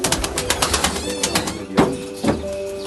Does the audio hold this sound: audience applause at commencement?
no